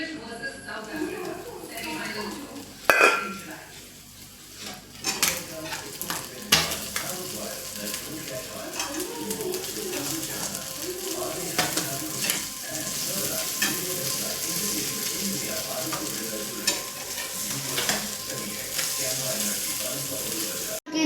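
Fish roe fries in a pan with a dense, continuous sizzle and spitting crackle, broken by occasional clatters of a utensil against the pan.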